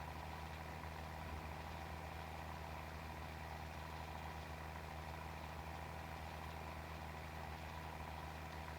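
Tractor engine running steadily while pulling a swather through a grass field, a continuous loud low drone with a constant idle-like hum and no pauses or voices.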